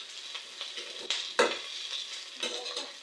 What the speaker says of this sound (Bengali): আর একটু ভেজে আমরা পাস্তাটাকে নামিয়ে নেব।